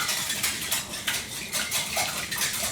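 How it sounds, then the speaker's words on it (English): Eggs being quickly whisked in a bowl for pumpkin bread batter, a rapid run of bright, close clinking and scraping strokes of the whisk against the bowl, steady and continuous with no talking. "So first I'm gonna start with my eggs. Just gonna give those like a quick whisk."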